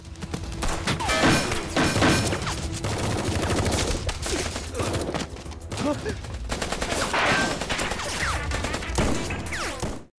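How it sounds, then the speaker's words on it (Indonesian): Gang members in a film spray bullets in dense, continuous automatic gunfire mixed with heavy thuds and crashing impacts, loud and sustained for about ten seconds with no clear talk. "langsung memberondong mereka dengan peluru"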